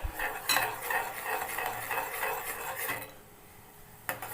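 Dry ginger water in a pot on the stove, stirred with a utensil that scrapes and clinks against the metal in uneven strokes, then a pause and one last knock.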